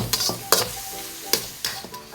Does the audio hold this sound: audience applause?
no